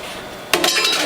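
A metal spatula scrapes and clinks against a Norwalk juicer's press, clearing out pulp from cantaloupe, blueberry, ginger and turmeric juicing; a quiet lead-in gives way to a close, continuous scraping run.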